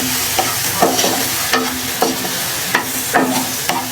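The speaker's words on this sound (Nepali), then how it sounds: "यसमा चलाउँछु।" Potato curry frying in a pan is stirred in repeated scraping strokes, each stroke rising over a steady close sizzle of oil.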